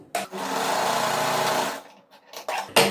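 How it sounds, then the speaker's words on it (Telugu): A sewing machine runs a fast continuous double stitch along nightsuit fabric, a close whirring burst of about two seconds followed by short stop-start runs. "డబల్ స్టిచ్ వేసేసుకుందాము."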